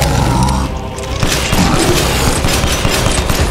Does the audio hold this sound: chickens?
no